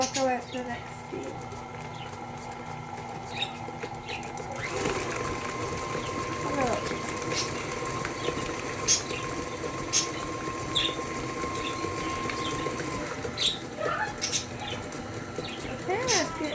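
An electric mixer hums on slow speed as it churns chewy cookie dough in a home kitchen, a steady mechanical drone running throughout, with a faint change partway through and a person talking over it.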